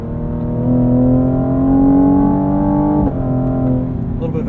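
A 2020 Cadillac CT5-V AWD's engine drones steadily at high revs in track mode, then a sharp blip near the end as the gearbox downshifts under braking, the engine note falling after.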